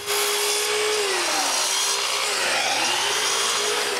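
Wooden drawer slides for a sewing box being cut to length with a power saw, a loud continuous whine whose pitch dips and recovers as the blade bites into the wood.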